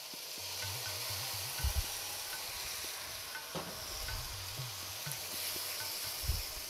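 Bell peppers and garlic purée cooking in a pot, a soft steady sizzle with a low simmering bubble beneath and occasional clanks of a spoon stirring.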